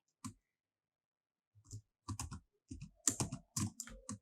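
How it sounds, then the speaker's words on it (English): Someone types on a computer keyboard in short bursts of quick, close clicks separated by pauses, faint and dry with no other sound. "again typing"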